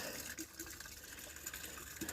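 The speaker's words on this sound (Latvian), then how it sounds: "Šajā gadījumā ir izvēlēts ūdens sūknis." Water pump circulating water in a small garden pond in winter, producing a steady, soft gushing and trickling flow that runs continuously at moderate distance with no talk.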